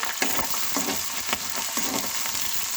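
Ginger and onions frying in a pan while making a potato, carrot and pea sabzi, a steady close sizzle with soft stirring scrapes throughout.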